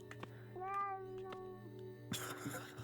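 A cat meows inside the surreal sandbox video game Lucid Blocks, one drawn-out, wavering call in the middle with a sharper burst of noise near the end, over a steady low game hum.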